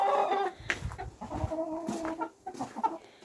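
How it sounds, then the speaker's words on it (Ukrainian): Hen clucking near a chicken coop in winter, several short clucks and bird calls under a busy, close farmyard background. "Бачите, сідає курочка."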